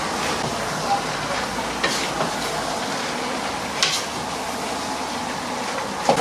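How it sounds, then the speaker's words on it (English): Rice is stirred into fried vegetables for Nigerian fried rice in a hot pan, giving a steady sizzle with scraping and clattering of the spoon, close and fairly loud throughout. "After we add the rice, I will mix again everything."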